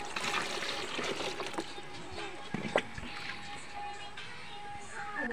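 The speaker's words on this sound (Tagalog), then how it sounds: "Una po ay ilalagyan po natin siya ng tubig." Water runs and splashes as it is poured into a basin to hand-wash laundry, a steady close trickle with a few sharper splashes midway.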